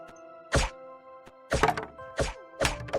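Objects being smashed in the snowy video game Feel the Snow land as four loud, punchy thwacks about a second apart, with a soft ringing tonal hum behind them and a faint tap between hits.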